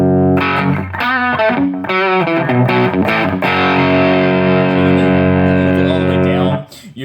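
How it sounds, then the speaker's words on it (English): Electric guitar through a Behringer TO800 Vintage Tube Overdrive pedal with drive turned fully down, still crunchy: a run of choppy picked notes and chords leading into a loud, long sustained chord that fades out near the end. "you're still getting a pretty decent amount of crunch"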